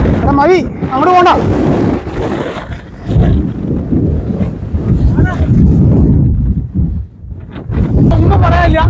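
Strong gusts buffet the microphone on a misty, drizzly Munnar hilltop, a loud roaring rumble that swells and dips throughout while people talk intermittently over it.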